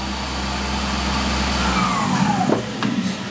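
A motor driven by a variable frequency drive spins at 4000 RPM, giving a steady, loud mechanical hum with a high whine throughout and a faint descending tone near the end.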